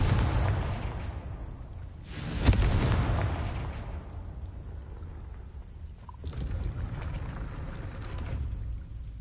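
A Confringo fire spell in Hogwarts Legacy bursts with a sharp explosive boom that rumbles and decays, followed later by a second softer crackling blast.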